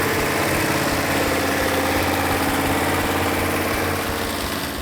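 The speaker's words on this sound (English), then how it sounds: "Everybody involved in bringing this engine back to life, the Phoenix Cuda engine, did a fantastic job." A restored Phoenix 'Cuda V8 engine idles steadily, close and loud, with a dense, even rumble and vibration that holds unbroken throughout.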